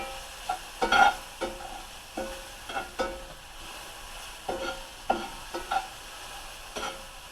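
Vegetables for fajitas cook in olive oil in a pan, giving a soft, steady sizzle broken by repeated scraping and stirring knocks at an irregular rhythm, close and moderately quiet with no talking.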